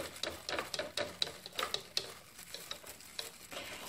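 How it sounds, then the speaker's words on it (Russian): Insecticide powder being stirred into a solution with an orchid stake, a series of light, quick scraping and tapping strokes in a steady rhythm, close and fairly quiet, with no voices. "И я буду перемешивать держателем для орхидей. Нужно все это перемешать, чтобы порошок растворился."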